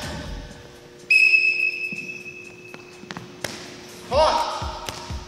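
A referee's whistle gives a long, sharp blast at the start of a game challenge, followed by thuds and scattered knocks, then a second, shorter trilling whistle near the end, with voices underneath.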